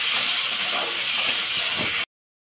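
Chili powder, turmeric and spices sizzle in hot oil with a bright, steady hiss and faint crackles, close and continuous, before cutting off abruptly near the end.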